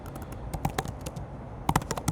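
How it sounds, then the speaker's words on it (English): Fingers type on a computer keyboard in short uneven bursts of crisp clicks, with a quick flurry near the end, close and alone without speech. "let's go ahead and just start typing the next prompt"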